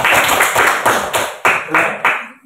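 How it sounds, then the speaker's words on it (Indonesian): Applause from a classroom for a student group at a junior high school, a burst of clapping with dense overlapping claps that thins into a few scattered claps near the end. "Oke, tepuk tangan dulu untuk kelompok tadi"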